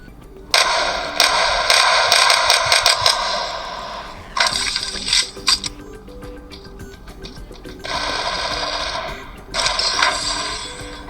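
Bursts of rapid automatic gunfire in a mobile shooter game, several sustained volleys separated by short pauses, loud and close.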